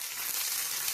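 Chana dal crackling in hot oil for a tempering while making a ridge gourd chutney, a steady close sizzle with bright hiss and no break or voice.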